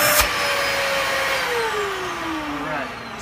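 A vacuum cleaner runs steadily and loud throughout, its motor whine sliding slowly downward in pitch as it strains for suction, with a brief thump near the start.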